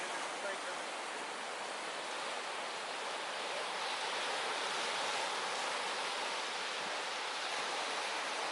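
Pacific Ocean surf on the Oregon coast makes a steady, hissing wash of breaking water, continuous and fairly soft with no clear individual waves standing out and no voices.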